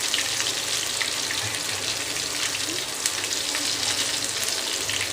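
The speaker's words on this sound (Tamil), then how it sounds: "இப்போ நம்ம வந்து பொரிச்சு எடுத்துக்கலாம்." Mushrooms deep frying in hot oil for mushroom 65, a dense, continuous bubbling hiss that stays loud and even throughout, close by with no voices.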